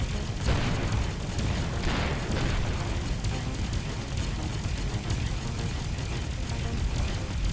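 Torpedoes detonate in the space game Avorion, producing a continuous, dense roar of explosive noise with overlapping booms and rumbling throughout, loud and sustained without clear gaps.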